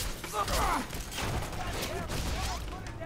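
Rapid, continuous gunfire crackles through the video game F.E.A.R. 3, dense and steady bursts with a voice talking over the shooting.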